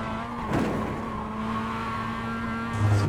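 A Mazda MX5 drives a lap at Winton race circuit, a steady droning engine note heard from inside the car with a brief swell and a low surge near the end, no talk.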